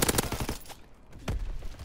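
Gunfire in Call of Duty WW2 multiplayer, a quick cluster of loud shotgun and weapon blasts at the start, a brief lull, then another heavy shot followed by more firing.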